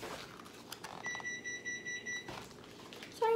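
A steady electronic beeping tone sounds for about a second, clear over faint background noise, then another short higher tone near the end.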